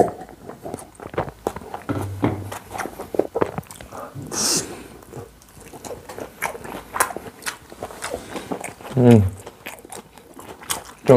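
Pizza being bitten and chewed close to the mic at a Korean eating session, with a Yuroko melting Hawaiian and wagyu steak pizza: soft crunchy bites and wet chewing in irregular bursts, with a few louder crunches near the end.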